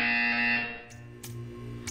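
A test-chamber buzzer in the Portal 2 video game sounds as a loud, steady electronic tone that fades after about half a second, leaving a low hum with a couple of faint clicks.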